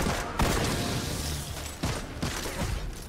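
Gunfire in the sci-fi shooter Destiny 2 rings out as several loud, close shots at uneven intervals over a dense, noisy combat background.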